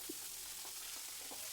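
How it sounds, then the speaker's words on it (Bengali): Pabda fish frying lightly in mustard oil makes a soft, even hiss of faint sizzling with a few small pops, heard alone and fairly quiet. "তো এক এক করে আমি পাবদা মাছগুলো ভেজে নেব একটু হালকা করে,"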